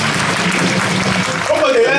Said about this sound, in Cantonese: 有少少怯場啊，俾啲掌聲鼓勵先啦。